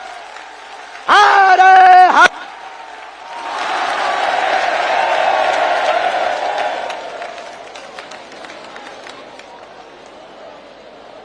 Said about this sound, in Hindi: जोरदार ताली बजा करके हम सब पूरा बागेश्वर परिवार स्वागत करें।